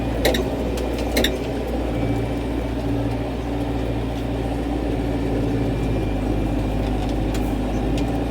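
A Massey Ferguson 5450 tractor works an unploughed field, its diesel engine droning loud, close and steady with a constant low hum, and a few sharp clicks near the start and end.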